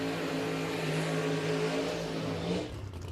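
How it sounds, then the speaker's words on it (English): A drag racing car does a burnout at the Lights Out 12 event, a loud sustained engine roar with tire-spinning rasp that holds steady and then drops off near the end. "Here we go. Enjoy the burnouts."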